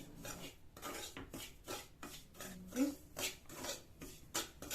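Semolina dry-roasting in a pan while a spoon stirs it, heard as rhythmic scraping and clinking strokes of metal against the pan, close and steady over several seconds.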